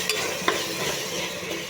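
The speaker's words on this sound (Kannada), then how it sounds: "ಅದನ್ನು ಹಾಕಿ ಮಿಕ್ಸ್ ಮಾಡಿ ಚೆನ್ನಾಗಿ ಫ್ರೈ ಮಾಡ್ತಾಯಿದ್ದೀನಿ" Soaked peas being stirred and fried in a pan for a vegetable biryani, with a soft steady sizzle and a light scrape of a spoon, heard up close and without voices.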